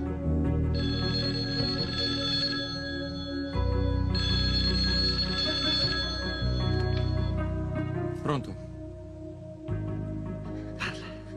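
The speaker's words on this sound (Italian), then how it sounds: "Telefono." A telephone rings in repeated electronic bursts with short pauses between them, fairly loud and close, with no voices over it.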